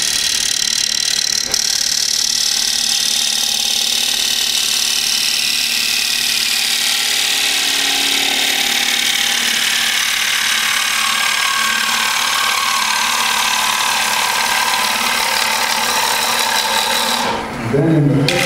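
A wood lathe runs steadily while a gouge makes a finishing cut on the bevel, giving a continuous close scraping rasp over the machine's hum that stops abruptly near the end.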